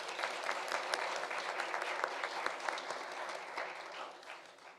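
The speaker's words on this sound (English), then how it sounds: "One last round of applause for all of our students." Applause from an audience at a school district board of education meeting honoring students, a steady dense clapping lasting several seconds that tapers off near the end, heard at moderate distance.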